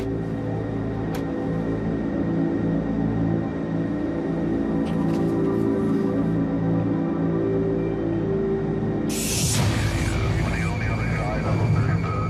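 An airplane's engines drone steadily as it approaches Richmond for landing, a constant low roar that swells into a brief rushing surge near the end.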